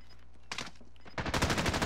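Rapid burst of gunfire in a shooter video game, loud and close, following a brief quiet pause with a couple of faint blips.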